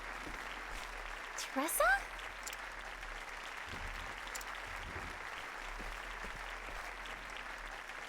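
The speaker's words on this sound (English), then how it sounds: "Golf clap." A brief, light smattering of crowd applause from the video game Octopath Traveler rises faintly under a spoken line and soon fades, leaving quiet background music.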